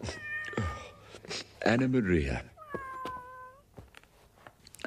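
A kitten in an animated Beatrix Potter cartoon meows several times, loud and drawn out, close up and mixed with a character's speaking voice.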